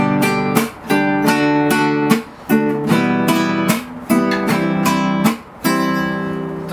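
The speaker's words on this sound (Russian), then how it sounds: "Итак, бой у нас звучит так." Acoustic guitar strumming pattern for a song, played with full chords in a steady, driving rhythm of strong strokes and brief pauses, loud and close with no talking.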